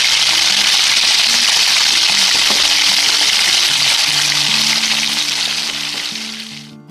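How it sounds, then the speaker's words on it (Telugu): Half a kilo of washed chicken gizzards sizzle loudly in hot oil as they are stirred, a dense, steady frying hiss throughout that fades slightly at the end, with no talking. "ఆయిల్ కొంచెం హీట్ అయిన తర్వాత శుభ్రంగా కడిగిన కందనకాయని హాఫ్ కేజీ వేసుకుని కలుపుకోవాలి"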